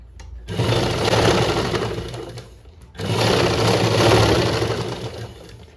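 A sewing machine stitches a sleeve side seam in two steady runs of whirring, each several seconds long, separated by a short pause, close and clear with no talking.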